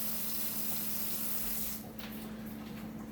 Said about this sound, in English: at least rinse them off in hot water